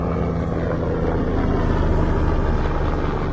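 A helicopter drones in a steady, loud, close rotor and engine roar, a dense unbroken rumble with a faint tonal hum, without talk.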